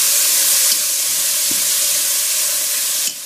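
Tomatoes hit a hot pan of sausage rougail, giving off a steady, bright sizzling hiss that runs continuously and drops away sharply at the end.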